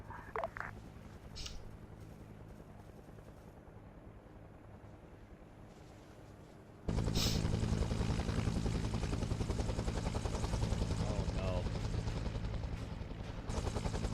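Military helicopter in a Vietnam-era war video game, a steady rotor and engine roar that starts quieter and wind-like, then jumps abruptly to a loud, close, constant drone for the second half.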